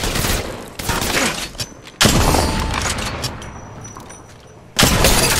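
Gunfire in the Apex Legends video game, loud bursts of weapon fire with booming reports, a heavy volley early, a sharp blast at two seconds and another at the end.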